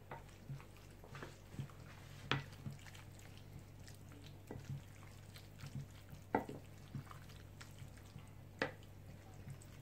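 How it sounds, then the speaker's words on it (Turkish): Spinach being stirred with a poured sauce, giving soft wet scraping and squelching strokes that repeat at irregular intervals over a low steady hum, quiet and close with no talking. "Sosumuzu döktükten sonra ıspanağımızı karıştıracağız."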